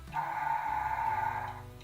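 A single short, faint three-chime horn blast from Norfolk and Western locomotive 611, a steady chord-like tone holding for about a second and a half, then fading.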